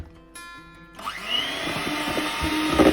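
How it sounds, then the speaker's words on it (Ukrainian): A three-ingredient coffee dessert being whisked to a foam with an electric mixer, a steady motorized whir that starts after a quiet moment and keeps going, loud and close with no talk. "Ще збиваю."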